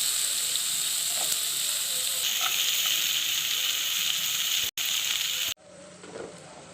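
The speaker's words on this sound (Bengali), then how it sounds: "বাটারের টুকরোটা আমি দিয়ে দিলাম আবারও ওই কড়াইয়ের মধ্যে।" Butter sizzles and spits in a hot wok (kadai) while making chicken fried rice, a loud continuous hiss close by with brief pops, interrupted by short cuts before dropping to a softer sizzle.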